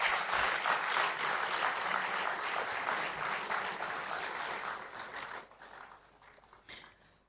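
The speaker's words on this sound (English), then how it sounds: "Can we applaud him once again whilst he takes his seat?" An audience at a university inaugural lecture claps steadily, the applause loud and sustained before thinning out and fading to scattered claps.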